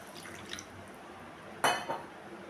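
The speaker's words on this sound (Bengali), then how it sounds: "এখন দিয়ে দেব জল।" Water poured into a pan of fried spice paste with radhuni paste, a short splashing gush that hisses and settles after a quiet stretch, close and alone.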